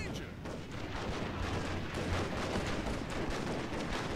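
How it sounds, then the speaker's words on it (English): Gatling gun raking an enemy ship in the Fall of the Samurai strategy game, heard as dense, continuous rumbling gunfire with heavy low-end booms, steady and loud throughout amid battle noise. "But the Gatling gun has opened fire."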